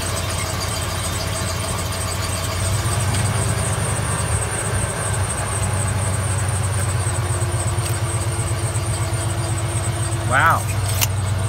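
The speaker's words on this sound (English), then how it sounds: "Driven over by my half-ton on pavement." A half-ton pickup truck rolls slowly over pavement with a steady, loud low engine rumble throughout, and a brief squeak rises near the end.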